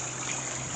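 Water trickles and gushes steadily inside an active water well in an old bunker at Blanes, a continuous close, moderately quiet wash of flowing liquid with no voices.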